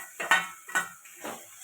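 A spoon scrapes and knocks through a ginger, green chilli and cumin paste in a pan, three distinct stirring strokes with quiet gaps between them, close and moderately soft.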